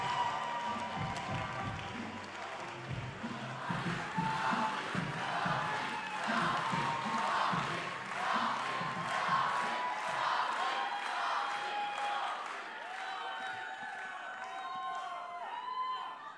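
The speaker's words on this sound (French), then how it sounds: "Tonnerre d'applaudissements." Crowd at a political rally for the European elections applauding and cheering, a thick continuous roar of clapping with shouts and voices mixed in, gradually thinning toward the end.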